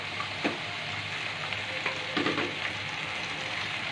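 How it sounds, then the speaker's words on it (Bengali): Macaroni goes into a hot pan of frying ingredients with egg. A steady sizzle runs throughout, broken by a few brief clatters and stirring scrapes, close and moderately loud. "এখন আমি দিয়ে দিচ্ছি সবগুলো ম্যাকারনি।"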